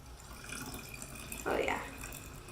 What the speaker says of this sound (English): I've got my 16 ounces of water